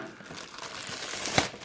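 Plastic packaging crinkles and rustles close by as it is cut open with scissors during an unboxing of a wireless speaker, ending in a sharp snip-like crackle.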